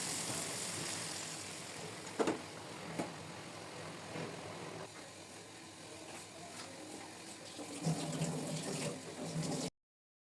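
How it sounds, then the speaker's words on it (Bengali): Boiling hot water pours into a pot of fried vegetable khichuri mixture, giving a quiet, steady watery rush with a few clunks and swells, close by and ending abruptly in silence. "তারপর আমরা ফুটন্ত গরম পানি দিয়ে দেবো।"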